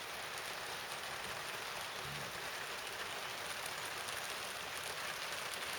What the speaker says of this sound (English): So the rain has started today, which is quite welcome in a way